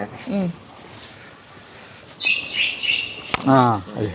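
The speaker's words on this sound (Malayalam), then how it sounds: "കിളികളെ ശബ്ദം." Brief bright bird chirps flutter for about a second, sandwiched between short bits of speech, during a family trip to see Neelakurinji blooms.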